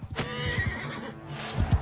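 Horse neighing in the video game Mount and Blade 2 during a battle, a single close whinny followed by heavy hoof thuds near the end.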